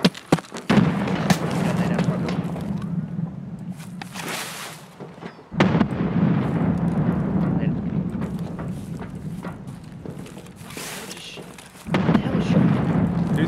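Frag grenade explosions in Escape from Tarkov erupt as heavy booms, one near the start, another around the middle and a third near the end, each followed by long rumbling decay, with people talking throughout.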